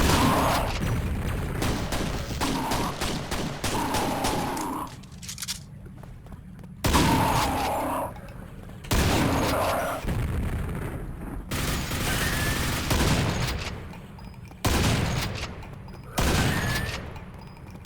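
Shotgun fire in the Quake mapping pack Brutalist Jam 3, with a burst of rapid blasts followed by a series of loud, spaced booming shots, each cutting off into brief quiet between them.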